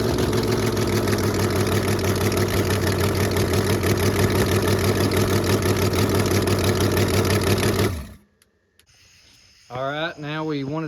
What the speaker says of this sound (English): see how it sounds and how good this carburetor revs